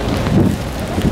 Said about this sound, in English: And apparently that's light rain.